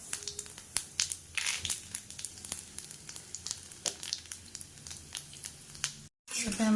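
Cumin seeds and whole spices crackle in hot oil, a busy run of sharp pops and spatters over a soft sizzle, close and irregular, briefly cutting to silence near the end.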